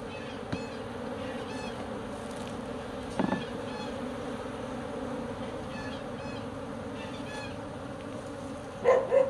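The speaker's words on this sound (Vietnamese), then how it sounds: "Nuôi ong này thì nó có nhiều kỹ thuật nuôi lắm." Honey bees buzz around their hives in a steady dense drone, continuous and close, with a few brief knocks and handling sounds over the hum.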